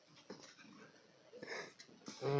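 A pet dog named Rosa whimpers and whines in short breathy bursts, fairly close, with people talking around it and a louder whine at the end.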